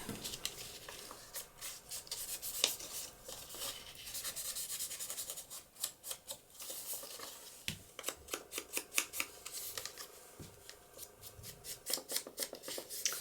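Scissors trim the corners of a sheet of 120 GSM A4 premium digital paper in a papercraft project, with close, quiet snips and rustling, clustering into quick rhythmic cuts toward the end.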